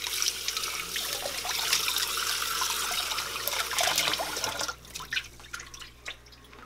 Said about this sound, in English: So let me just rinse this off so that we get rid of some of the stuff.